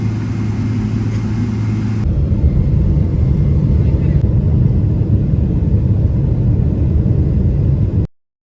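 A passenger jet's engines roar in the cabin as an international flight from the USA to India gets underway, a loud, steady low rumble filling the space for several seconds before cutting off.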